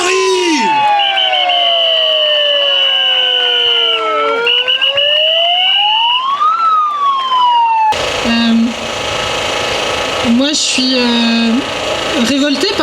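Rural protest crowd in Bouquehault with wailing sirens and alarm tones sweeping up and down, loud and continuous, then crowd noise and voices with short horn-like blasts.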